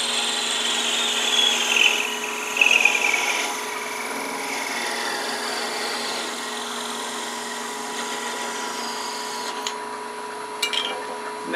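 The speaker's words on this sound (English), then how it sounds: "Now we'll take our parting tool and part it off." A parting tool cuts off a small turned wooden piece on a spinning lathe, with a steady motor hum and a scraping cut that shifts in pitch, close and moderately loud.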